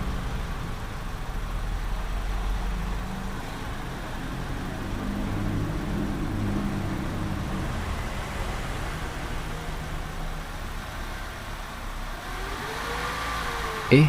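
A vehicle engine held steady at 3000 rpm during a vibration test, giving a continuous low mechanical hum with rumble, fairly constant throughout and close by, with a brief knock at the very end.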